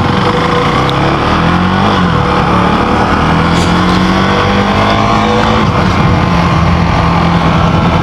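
A KTM Duke 390 with quick shifter engine runs loud and close while being ridden, its note rising and falling through revs with steady road and wind roar throughout.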